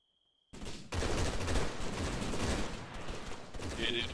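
Dense bursts of gunfire erupt suddenly after a short tone, rapid overlapping shots continuing loudly with a voice briefly audible near the end.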